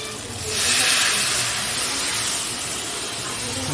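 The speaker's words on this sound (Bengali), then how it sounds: "এইবার এর মধ্যে একটু জল দিয়ে দেবো" Water splashed into a pan of hot egg curry with potato and taro stems bursts into a loud, steady hiss of steam and sizzle that swells quickly, then settles into a continuous bubbling hiss.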